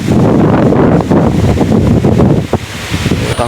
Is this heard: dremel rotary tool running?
no